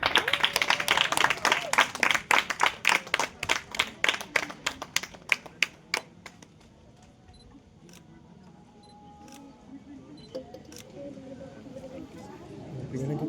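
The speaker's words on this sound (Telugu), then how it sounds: "క్లాప్స్" An audience at an NSS camp certificate ceremony at a pharmacy college claps in a lively burst that thins into scattered claps and fades to quiet room noise with faint murmuring.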